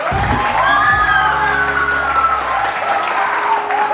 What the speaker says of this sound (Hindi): कभी कभार इंसान सिली ह्यूमर पे तालियां बजा देता है